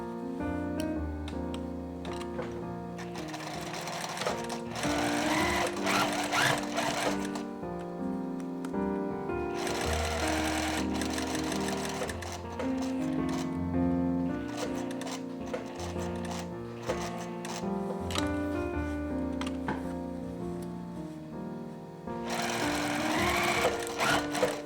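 Sewing machine stitching fabric with a 1.4 cm seam allowance during a dressmaking lesson, a loud rapid mechanical chatter in several long runs separated by short pauses, with no voice over it.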